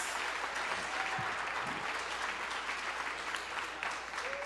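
A church audience breaks into sustained clapping for Jesus during a Portuguese-language sermon, a steady, full round of applause from a sizable crowd that holds for several seconds.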